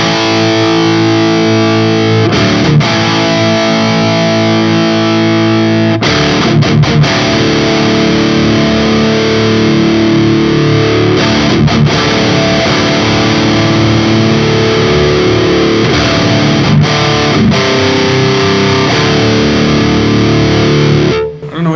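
Modded Peavey 5150 II amplifier driving a high-gain metal guitar with the bright switch on, loud distorted riffing with chugging palm-muted chords and brief pauses.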